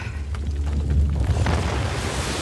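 Water released in Uncharted: The Lost Legacy, a loud continuous rushing and roaring surge with heavy low rumble, building steadily across the moment with no talk over it.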